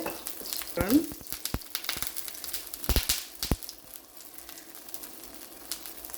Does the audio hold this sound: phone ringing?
no